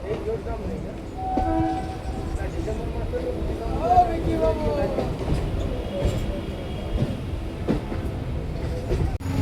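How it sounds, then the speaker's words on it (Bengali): Local train pulling into Naihati station, a steady rumble and clatter of wheels with a brief horn or whistle tone midway, while people talk over it. "ট্রেন কিন্তু নৈহাটি ঢুকছে"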